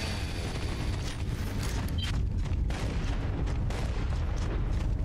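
Dense, constant rumble of battle noise from the video game Gears of War 3, with bursts of gunfire and heavy booms, loud and continuous throughout, with no clear pauses.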